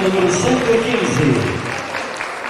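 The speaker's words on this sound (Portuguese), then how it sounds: "Aplausos para a atleta Gilberta Cristina, número 115." Audience applause for a female athlete announced by number at a Ponchet Classic 2011 competition, a steady wash of clapping that fades slightly toward the end, with voices and tonal sounds mixed in.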